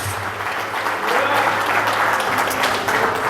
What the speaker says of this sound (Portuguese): Então eu quero uma salva de palmas para a palavra de Deus.